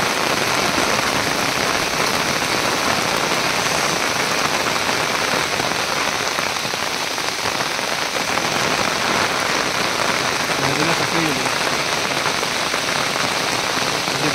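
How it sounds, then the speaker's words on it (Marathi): Steady, dense monsoon rainfall pours continuously at a village riverside, a loud even hiss of drops striking surfaces nearby, with no voices. "हा बघा पाऊस अजून चालू आहे"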